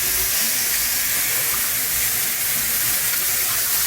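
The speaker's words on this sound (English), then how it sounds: "Sizzle, sizzle, sizzle." Bacon burger rice sizzling in a pan, heard as a steady, loud broadband hiss that holds unbroken throughout with no talking.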